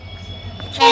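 A train horn sounds from the express running between Bangalore and Hyderabad, sliding in for the last fifth of a second as a loud, harmonic blast over a steady low rumble.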